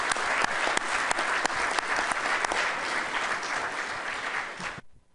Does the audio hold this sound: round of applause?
yes